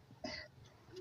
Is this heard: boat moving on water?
no